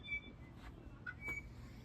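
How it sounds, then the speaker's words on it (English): A few thin, high whistled notes of an iiwi in a Hawaiian rainforest, faint and spaced apart, over a low steady outdoor hum. "That is an iwi."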